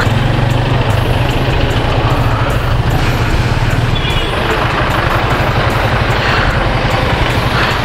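A Yamaha FZ25's single-cylinder 247cc engine runs loud and close, a steady, throbbing drone with a low pulsing beat throughout and no voices.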